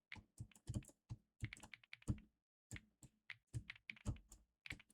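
Someone types on a computer keyboard, producing rapid, irregular bursts of close, crisp key clicks in short flurries separated by brief pauses, with no voices.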